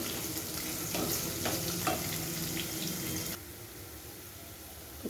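Onions fry in a pan for bottle gourd curry, a steady close sizzle with a few scraping stirs before the hiss drops to a quieter simmer.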